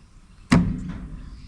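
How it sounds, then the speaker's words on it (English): The contactor in a Victron EV charging station switching off, a single sharp mechanical clunk with a short resonant tail in an otherwise quiet setting. "You can hear the contactor"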